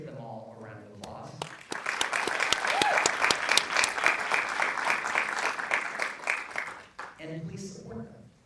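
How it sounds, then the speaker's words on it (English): An audience at a red carpet film premiere claps for the crew, with broad applause swelling after a speaking voice and fading as talk resumes at the end. "So please give them all a round of applause."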